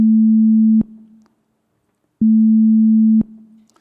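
Pure electronic sine wave tone generated in Ruby code, sounding as two steady, loud beeps of about a second each, separated by a short silence.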